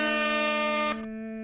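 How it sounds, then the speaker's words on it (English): A single loud, blaring air horn blast holds steady for about a second, then drops to a thinner fading tone. "That was essentially an air horn."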